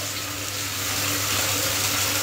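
Water splashes into a hot pan in a home kitchen to loosen spices stuck to the bottom, a steady hissing, sizzling rush heard close and alone, with no talking.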